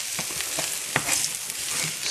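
Onions fry in a pan with a steady, close sizzle and scattered crackles, punctuated by a few stirring scrapes; no talking.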